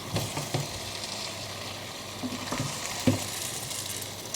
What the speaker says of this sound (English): now we're going to give everything a stir